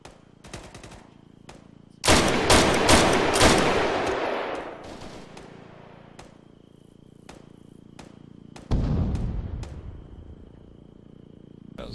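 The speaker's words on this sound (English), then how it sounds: "That was a good M203 you ever shot there" Arma 3 combat: a few light shots, then a loud M203 grenade launcher blast whose boom rolls and fades over several seconds, and a second heavy blast later, with sparse rifle shots scattered between and no voices.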